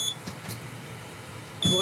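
A smoke alarm sounds in a home kitchen where several dishes are cooking at once, its high steady tone cutting in loudly near the end after a stretch of quieter room noise, with voices present.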